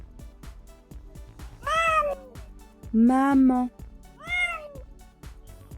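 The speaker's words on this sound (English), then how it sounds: "Meow, meow." A cat meows three times, loud and close, with drawn-out cries, while a person talks around the meows.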